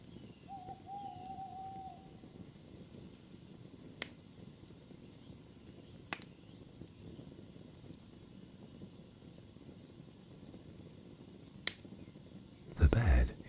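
An owl hooting at night, a faint drawn-out call near the start over a quiet ambient bed with a few sharp ticks and a brief louder rustle at the end.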